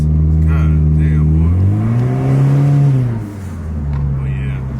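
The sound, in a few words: Honda Civic with new intake revving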